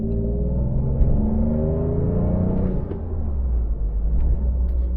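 Huge V6 engine of an Alfa Romeo GTV V6 Cloverleaf (Type 916) pulling hard under acceleration, a steady loud low rumble with rising harmonic tones heard from inside the car, no talk.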